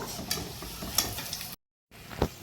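Mughlai paratha frying in oil, a quiet steady sizzle with a few brighter crackles, broken by a brief gap of silence before the frying resumes close by.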